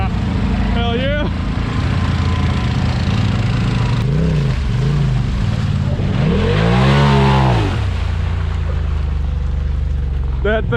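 Polaris RZR Turbo 1000 engine revving loud and close, with rising and falling sweeps in repeated bursts over a steady drone and a long strong rev near the end; voices mingle in.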